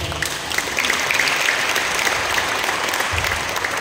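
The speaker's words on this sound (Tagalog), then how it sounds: "Pinabitin yung palakpak mo." A church congregation applauds during a sermon, producing steady, dense clapping from a sizable crowd that holds at an even level for a few seconds.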